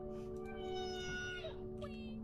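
Humpback whale song from the underwater game Beyond Blue: long, rising and falling tonal calls that sound almost like meowing cats, layered over a steady low drone, with a voice talking faintly in the background.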